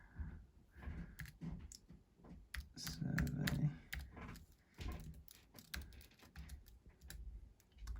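Someone types on a computer keyboard with one hand, producing quiet, irregular key clicks in bursts with short pauses in between.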